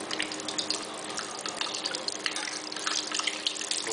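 A piece of camembert fries in hot oil with a dense, steady crackle and bubbling sizzle up close throughout, with no voices over it.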